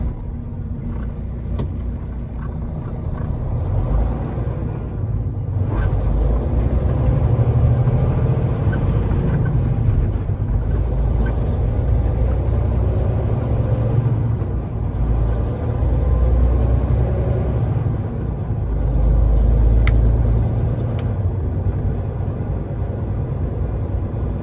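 A semi truck crosses a street toward a beef plant, a steady, heavy diesel rumble from the cab that swells and eases a couple of times over about twenty-five seconds, with no talking.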